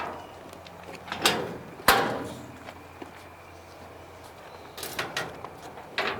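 A door to a ship's generator room slides and thuds open with a sharp clack, followed by quieter mechanical clicks and rattles nearby.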